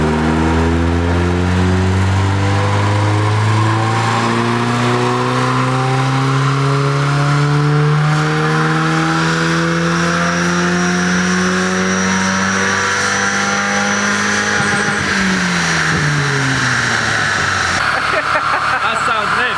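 Car engine fitted with a cam, air intake, exhaust and E-fan, revving up in one long rising sweep, holding high, then dropping back to idle, loud and close with voices talking around it.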